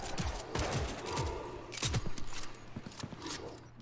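Pistol shots fire in Cyberpunk 2077, a quick series of sharp, moderately faint cracks spaced irregularly with mechanical clicks between them.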